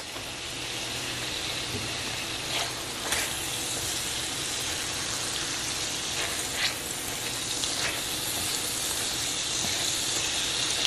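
Onions sautéing in a skillet for a keto green chile chicken dish give a continuous soft sizzle and hiss, moderately quiet and steady, with a few brief clinks from stirring.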